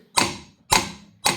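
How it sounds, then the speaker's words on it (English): Three sharp metallic hammer taps on the tailshaft coupling of a 1934 Morgan 3-Wheeler, spaced about half a second apart, close and distinct with short ringing decays and no talking. "small taps and a hammer, this is going in quite nicely"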